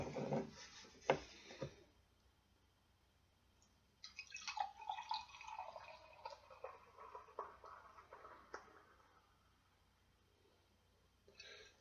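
Deschutes Jubelale, a dark ruby-brown winter ale, poured into a glass: a bubbly splash at the start, then a steady fizzing pour with foam forming, heard alone and close, fading to a faint crackle of settling head.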